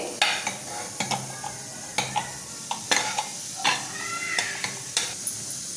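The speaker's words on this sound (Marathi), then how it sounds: "हे झाला कांदा भाजून काढून घेते।" Onion roasting in a pan, with a steady soft sizzle under repeated sharp scrapes and clinks of a spoon against metal at a quick, uneven rhythm, close and alone.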